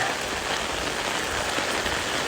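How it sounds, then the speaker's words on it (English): Rain pours steadily onto a surface in a dense, even hiss of countless drops, close and unbroken, with no voices. "Yes, we've had a lot of rain."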